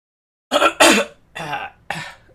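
Three or four harsh coughs and throat-clearing bursts come close and loud, separated by brief pauses, with no talking.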